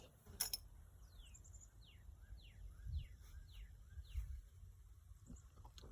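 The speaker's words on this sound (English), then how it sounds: "I believe that is a cardinal making that noise" A cardinal calls outside in a rapid series of clear, descending whistled chirps, moderately faint over a low rumble of background noise.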